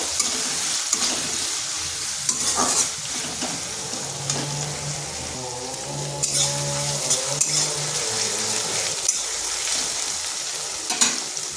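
A large onion frying in a pan, loud continuous sizzle with occasional clinks and scrapes of a utensil against the metal, no voices.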